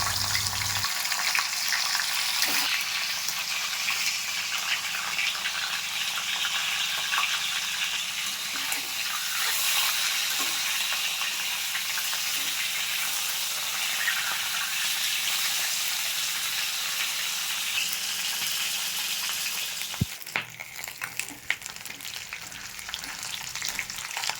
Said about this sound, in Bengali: তেল গরম হয়ে গেছে এবার মাছের মাথা দিয়ে দেবো